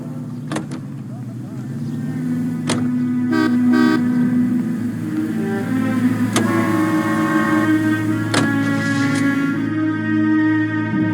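Car driving in the video game L.A. Noire: a steady engine drone with sustained horn-like tones and a few sharp clicks and knocks, moderately loud and continuous throughout.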